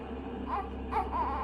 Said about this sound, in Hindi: अचानक हॉल से किसी बच्चे के रोने की आवाज आने लगी।